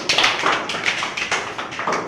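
A small group claps by hand in an even rhythm, crisp close slaps repeating about every quarter second.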